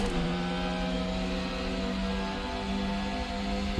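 Simulated modern Formula 1 car engine in the RaceRoom racing game, a steady high-pitched hybrid engine drone with layered harmonic whine, held fairly constant with slight pitch drift, alone and without talk.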